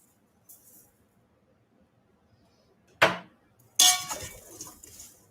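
Vegetables being tossed with olive oil, rosemary, thyme, basil and salt in a dish, heard as a couple of sudden loud clattering, scraping bursts against glass or metal between near-silent pauses.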